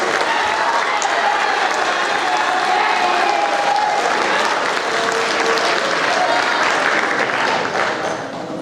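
Audience applause for students at an 8th grade awards ceremony, a dense, steady roar of clapping from a large crowd that holds strong for several seconds before tapering slightly.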